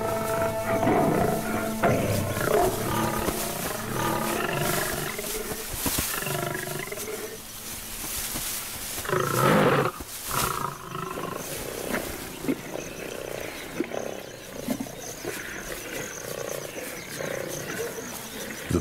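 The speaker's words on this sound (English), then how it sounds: "The other lioness is there in a flash, but she is no longer a partner," Rival lionesses roar and snarl at each other in a fight, loud close growls and roars in repeated bursts that ease off midway before a fresh surge of roaring.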